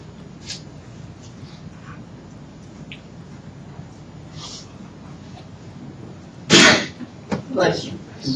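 A single sharp, loud sneeze bursts out near the end after a stretch of quiet room noise, with a couple of smaller follow-up sounds.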